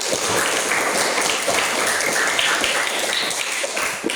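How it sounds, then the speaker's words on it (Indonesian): A classroom of students applauds after finishing a presentation, a dense continuous patter of many hands clapping at once, loud and close, holding steady for several seconds without voices. "Tepuk tangan dulu buat kita semua."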